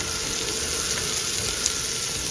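Wagyu burger patties sizzle on the grill grates of a Weber Q, a steady broadband frying hiss that runs the whole time, close and fairly loud, with a faint train rumbling in the background and no talk.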